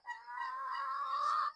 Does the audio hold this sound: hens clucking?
yes